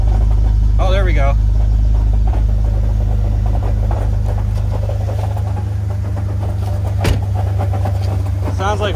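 A car engine rumbles steadily at idle with a loose rattling underneath, like something knocking about inside, while a voice talks over it throughout.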